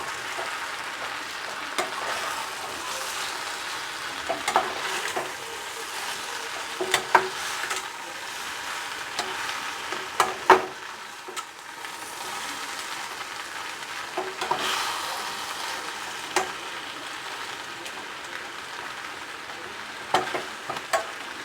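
Vegetable biryani stirred in a hot pan, a steady sizzle and frying hiss with scattered spoon scrapes and clinks throughout, close and fairly quiet, no voices.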